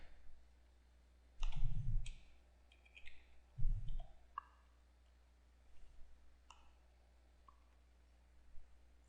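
Several computer mouse clicks spaced irregularly in a quiet room, a couple of firmer, louder clicks early on followed by fainter, lighter ones.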